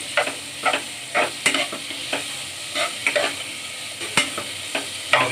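Capsicum and tomatoes being stirred in a pan for homemade pasta: a quick series of spoon scrapes and knocks, roughly one or two per second, over a low steady sizzle, close and clear with no talking.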